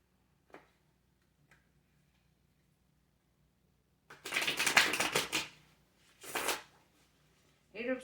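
Tarot cards are shuffled and drawn in a quiet room, with a few faint taps and then two short close bursts of riffling and sliding cards, and a voice comes in at the end.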